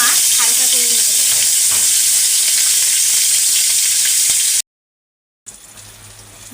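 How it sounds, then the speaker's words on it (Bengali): Boiled fish fry lightly in a hot pan, giving a loud, steady, close sizzle with crackling spatter that continues, broken by a brief silent gap near the end before the frying resumes. "এখন মাছগুলো একটু ভেজে নেব, যেহেতু সিদ্ধ মাছ হালকা করে ভেজে নেব।"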